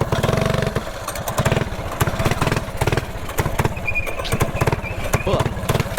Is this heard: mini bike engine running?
yes